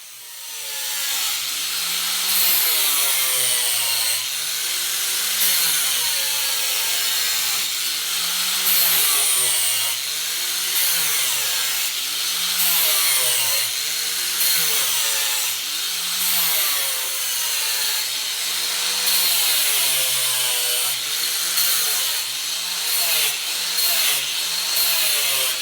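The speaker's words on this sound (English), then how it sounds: "I'll flip the jig around and start carving the other side so that it matches." A power tool carves a wooden neck for a 7-string multiscale fanned-fret guitar held in a jig, giving a loud, continuous whining drone whose pitch rises and falls in regular passes throughout.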